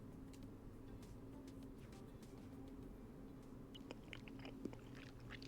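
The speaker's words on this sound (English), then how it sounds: "I don't like the chewing noises." Soft, wet chewing and crunchy bites repeat over a steady low hum as someone eats in the game Haven. The bites grow more frequent toward the end.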